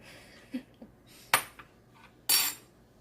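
A spoon scrapes and clinks inside a container while scooping out flexible hair rollers, with a few scattered light taps followed by two louder, sharper rattling scrapes, close by in an otherwise quiet room.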